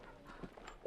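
A young show jumping horse's hooves thud faintly on the arena ground during an Andalucía Grand Prix round. A few soft, quick hoofbeats sound at a distance over low background noise.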